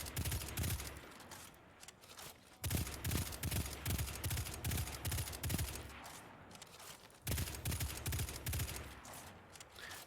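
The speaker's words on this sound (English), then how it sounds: "Just let me shoot one person." Dense, sustained gunfire from the video game Destiny, with rapid bursts of shots in two long volleys separated by brief pauses, loud and close with no talk over it.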